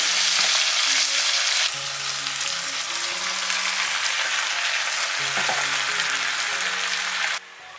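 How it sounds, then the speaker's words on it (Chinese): Fish head added to onions in hot oil in a clay pot, producing a loud, hissing sizzle that drops a step in intensity partway through, with light clinks, before fading quieter near the end. "砂锅热油，把洋葱放进来炒一下， 炒到洋葱变色，就把鱼头放进来"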